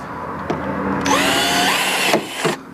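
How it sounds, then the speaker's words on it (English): A power drill whines steadily for about a second, bites into a Yamaha Rhino fender with a rising strain, then stops; brief tool bursts bracket it, close and loud. "drill a hole large enough"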